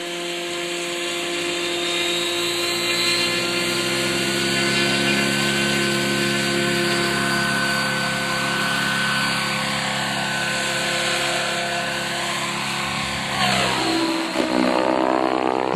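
A Joker 3D radio-controlled model helicopter from Germany, with a dual drive system and a separate motor driving the tail, gives off a loud, continuous electric motor whine and rotor drone whose pitch shifts near the end.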